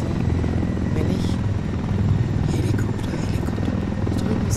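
Helicopter with a mounted minigun flying in Ghost Recon Wildlands, a loud continuous close rotor drone and engine hum throughout, with faint voices underneath.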